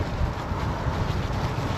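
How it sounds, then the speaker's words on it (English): Steady wind roars across an open lakeside fishing spot, a continuous broadband rush with low gusty rumble and no speech, loud and close against the microphone. "Awful windy to be fishing today"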